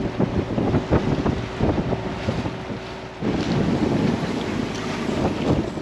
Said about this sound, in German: Und haben 15 Knoten Wind.